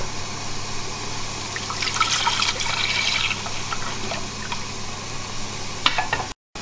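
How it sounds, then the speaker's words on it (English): Milk pours into a pan of thickened sauce for a tuna pasta bake, a steady close liquid trickle and splash with a brief louder gush midway, then a short cut to silence near the end. "So what I'm going to do now is pour in"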